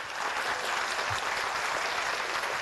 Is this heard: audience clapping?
yes